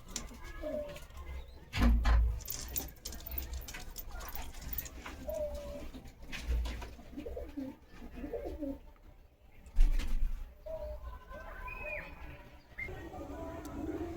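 Giribaz pigeons coo softly in a loft, with low throaty calls scattered across the scene, a few wing flutters and occasional talking in the background.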